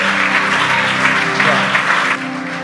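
Applause from a congregation at a prophetic church service, a steady dense wash of clapping that stays loud throughout and eases slightly near the end.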